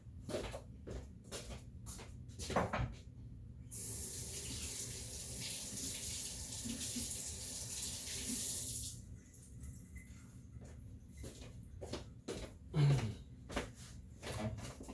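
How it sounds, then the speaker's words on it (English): A kitchen sink tap runs water over the soil of a snake plant, a steady gush in the middle stretch framed by sharp knocks and clatter of handling, all fairly faint. "I just took it right over to the kitchen sink, and I, you know, ran it under some water there"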